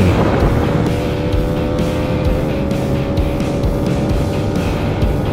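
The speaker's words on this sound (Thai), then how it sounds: "เสียงรถมอเตอร์ไซค์ทุกคัน ได้เร่งเครื่องดันออกไป" Loud, continuous engine roar of motorcycles revving hard and pulling away, a steady dense drone with rising pitch, close by and with no talking.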